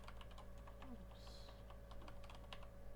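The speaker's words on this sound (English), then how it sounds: "Can't seem to type today." Quiet, continuous typing on a computer keyboard, with rapid irregular key clicks over a steady background hum and no talking.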